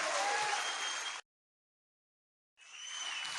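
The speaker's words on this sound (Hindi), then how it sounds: "आप सब लोग जोरदार ताली इसलिए बजाएं" An audience at a company training seminar applauds loudly, a burst of clapping that cuts out abruptly and then resumes for a second round.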